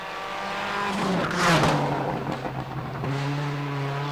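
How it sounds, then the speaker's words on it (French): A Citroën C4 WRC rally car on the Citroën test track at Versailles-Satory roars past up close, its engine note rising and sweeping through a loud peak before settling into a steady drone. "Elle vient d'effectuer ses premiers tours d'essai à Versailles-Satori sur la piste d'essai Citroën."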